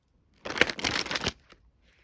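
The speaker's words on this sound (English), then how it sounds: "Let's see if I can get a nice little shuffle sound in for you guys." A deck of tarot cards is riffle-shuffled up close in a quiet room, giving one dense papery burst of about a second, followed by a faint tap.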